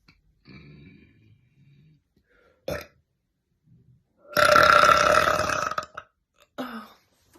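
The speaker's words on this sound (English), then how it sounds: "I just can't keep burping like this." A woman lets out several loud, deep burps: a short one, then a long drawn-out bassy belch, followed by another brief burp, with quiet gaps between.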